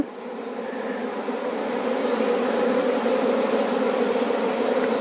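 Honeybees from a group of backyard hive colonies at a homestay in Pauri Garhwal, Uttarakhand, give a dense, steady droning buzz. It stays close and fairly loud for the whole stretch, with no voices.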